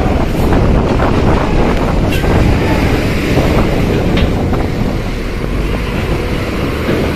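Stormy wind over the Sunda Strait during a ferry crossing in heavy rain, roaring loudly and constantly against the microphone, with a rumble of waves and the ship beneath.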